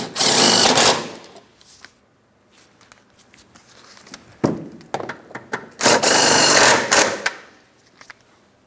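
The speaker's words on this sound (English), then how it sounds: "Once you have those bolts started in, go ahead and snug them up." Bolts on a Chrysler Town & Country accessory drive belt tensioner driven with a power tool, two loud whirring bursts at the start and near the end, with softer clicks and handling noises between.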